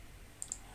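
Two quick, faint computer mouse clicks in close succession against a quiet background.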